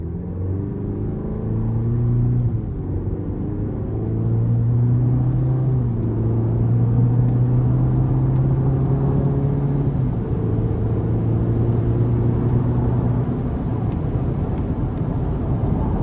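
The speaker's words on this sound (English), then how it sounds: "it still helped move this four-cylinder engine up to speed" A 2026 Chevrolet Colorado WT work truck with a turbocharged four-cylinder accelerates under moderate throttle, its engine drone rising steadily in pitch through a long pull with a shift-like dip, heard from inside the cabin.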